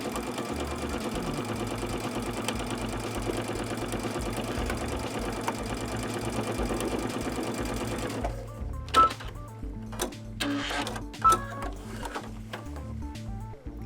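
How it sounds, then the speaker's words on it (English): A sewing machine runs steadily, stitching across the lower part of a vinyl panel on a manicure bag, then stops and gives way to a few short bursts and clicks. "the next thing I want to stitch is across this lower part of the vinyl. I just want to stitch that in place."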